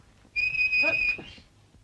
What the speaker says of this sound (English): For heaven's sake, don't whistle.